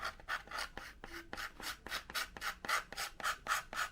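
Red parachute ink is scraped off a vintage 1972-1982 Centuri Vulcan model rocket in about a dozen quick, rhythmic rasping strokes, close up and fairly quiet, with no talk.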